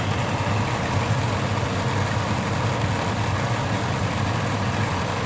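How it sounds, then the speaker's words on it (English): A pickup truck engine idles steadily nearby with a constant low rumble and vibration, the idle said to rise and fall unevenly, with no voices over it. "Like the idle goes up and down a lot."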